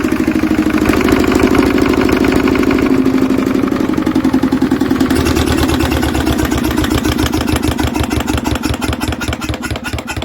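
A Lister diesel engine, freshly rebuilt with a new head gasket, runs close and loud with a rapid, even chugging beat and strong rhythmic exhaust pulses that steady out over the clip.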